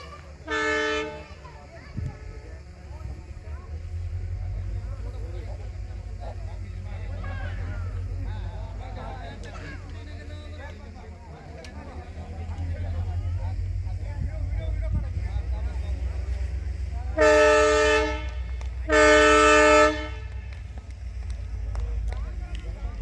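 A test train rumbles steadily past on a new railway line in Beed, its horn sounding once early and then in two loud blasts near the end, with people talking in the background.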